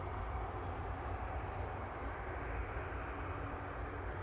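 A Pegasus airliner arriving at Manchester Airport, heard as a steady, broadband engine roar that stays loud and even throughout, with no talking.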